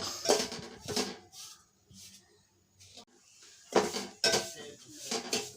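A spoon stirs semolina roasting in a pan for suji halwa, producing close, repeated bursts of scraping and clinking against the metal with quiet gaps between strokes.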